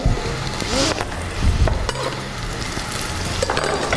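Garlic sizzles as it is tossed into a hot pan, a crackling frying hiss broken by spoon scrapes and stirring clatter, fairly close and with no talking.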